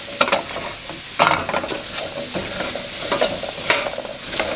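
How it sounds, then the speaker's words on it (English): Sliced potatoes with turmeric powder are stirred in a pan, with close, uneven scraping strokes over a soft background sizzle and a few louder bursts of movement. "And then I'm just gonna stir this around."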